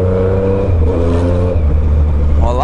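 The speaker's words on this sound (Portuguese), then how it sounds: "A moto ficou muito bruta." A motorcycle engine revs hard and steadily nearby, a loud droning growl with shifting pitch that climbs sharply at the end.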